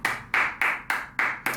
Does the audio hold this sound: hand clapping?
yes